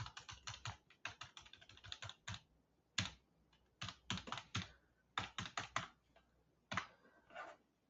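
Name being typed on a computer keyboard, with quick bursts of close, crisp key clicks separated by short pauses, fairly quiet and with no voices.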